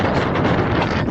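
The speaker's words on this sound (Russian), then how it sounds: "Сейчас очень большой ветер" Strong wind buffets the microphone outdoors on a walk home from school, a loud, continuous rumbling roar that fills the short moment with no other sound standing out.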